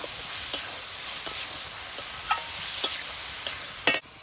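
Chopped onion with turmeric, chili and cumin powder and salt frying in a pan gives a soft, continuous sizzle, broken by occasional sharp scrapes and taps of stirring.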